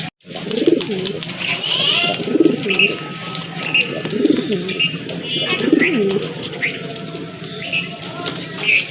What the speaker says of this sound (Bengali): আরেক জোড়া বড় পায়রা